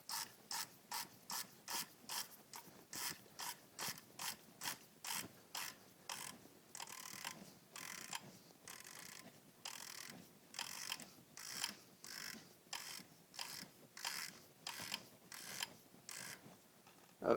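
A hand ratchet tightens down an oil filter housing on an Audi/VW 2.0T FSI engine, giving a steady run of close, crisp clicking bursts in a regular back-and-forth rhythm, with no talking.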